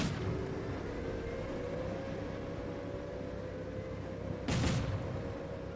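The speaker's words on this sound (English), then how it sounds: "How long does it take for those shots to arrive?" Gunfire in the wargame Combat Mission Black Sea: a steady low battle rumble with a few faint crackles, then a louder, sharper burst of shots near the end.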